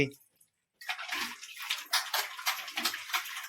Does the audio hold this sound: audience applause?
no